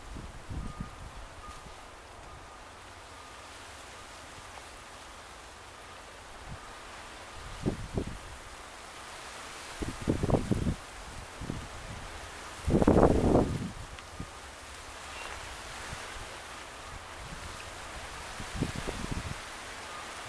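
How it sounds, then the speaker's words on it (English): Wind blows at an overcast beach, a steady soft rush punctuated by several louder gusts buffeting the microphone, with the strongest burst near the middle. "As you can see, it's windy,"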